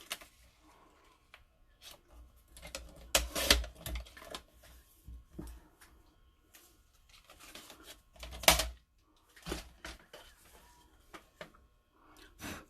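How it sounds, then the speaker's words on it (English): Card stock is cut down for a handmade card, giving scattered, irregular snips, clicks and scraping strokes. Some sharp louder cuts stand out against quiet handling noise. "Just going to cut it down like 1/8 of an inch."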